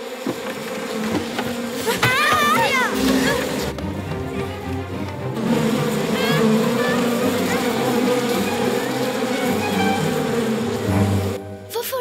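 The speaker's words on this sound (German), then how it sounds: "Oben am Baumhaus hängt ein riesiges Bienennest." In a cartoon, a huge bee nest hanging at a tree house gives off a dense, steady swarm buzz, with warbling cartoon effects and bits of voice over the droning.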